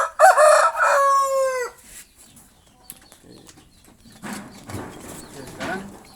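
A Bangkok or village-breed rooster crows loudly and close at morning feeding, one long drawn-out call, followed by quieter clucking, scratching and someone talking in the background.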